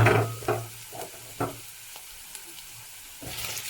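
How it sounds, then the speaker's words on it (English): Potatoes and carrots frying in a pan, stirred with a few scraping strokes over a steady low sizzle, with scattered clatter near the start and a louder burst at the end. "Give it a quick stir."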